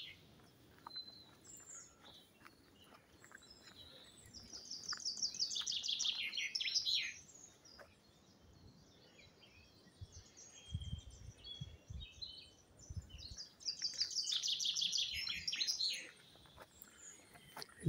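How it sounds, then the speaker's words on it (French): Birdsong in a forest in two clear bursts of bright, rapid chirping and trilling, rising over a quiet outdoor background with faint scattered calls between. "Juste entendre les oiseaux."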